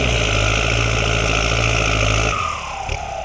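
A Kubota L5018 turbo diesel with a new, larger turbo and side-exit custom exhaust idles with a deep, steady rumble, then the revs drop away near the end, leaving a quieter, thinner hum.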